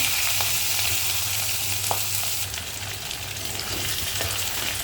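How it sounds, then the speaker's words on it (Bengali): Catla fish fat fries in oil with softened onion and whole spices, making a dense, continuous close-up sizzle that holds steady throughout, with faint scattered pops and no talking. "ভালো করে এটাকে তেলের সাথে ভেজে নিতে হবে"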